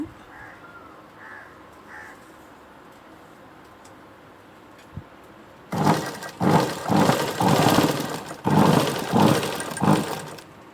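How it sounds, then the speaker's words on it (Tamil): Sewing machine stitching a churidar piece, starting after several quiet seconds with a few crow caws in the background, then running in loud rapid bursts of fast mechanical whirring separated by brief pauses. "இப்படியே வச்சு தைச்சி விட்டுக்கோங்க"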